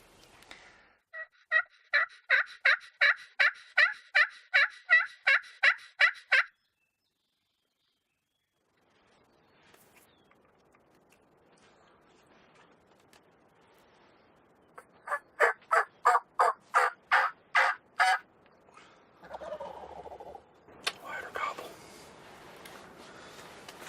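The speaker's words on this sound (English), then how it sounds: "I got birds behind me." Loud rapid series of turkey gobbles, repeated in a rhythmic burst, then silence, then another gobbling run followed by softer calls and rustling.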